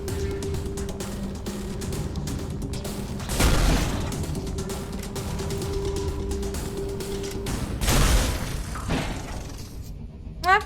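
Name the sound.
weapon shooting in the video game The Fall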